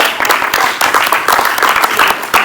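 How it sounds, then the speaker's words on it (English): One person's hands clap in a quick, uneven run of sharp claps close to the microphone, loud and continuous for a couple of seconds during a Sunday church service. "I'm clapping for myself."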